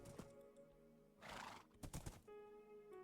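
Horse in the Minecraft video game gives a close, clear neigh followed by quick clip-clop hoof sounds and a short snort, with faint game-like tones underneath.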